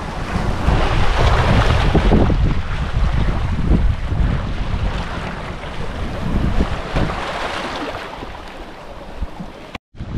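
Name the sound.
waves hitting rocks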